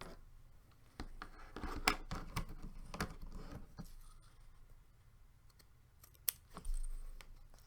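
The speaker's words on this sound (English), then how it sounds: "I'm going to take my scissors and just trim it off." Quiet, close snipping and cutting clicks of scissors trimming card stock, several irregular crisp snips and rustles of paper with pauses in between.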